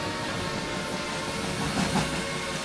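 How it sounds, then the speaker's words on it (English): In the Trainz railroad simulation, a broken-away train rolls backwards down a hill with a steady, loud rumble and hiss of rail cars and a faint clickety-clack, with no voices. "I think a train might have broken away and is rolling backwards down the hill"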